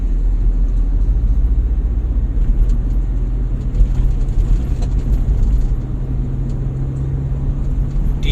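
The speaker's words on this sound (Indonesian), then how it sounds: "udah mulai nih truk-truk besar. Banyak yang lewat sini" Heavy road traffic on the Pantura highway near the Kanci toll exit, with large trucks passing: a steady, loud low rumble of engines and tyres throughout, with no talking.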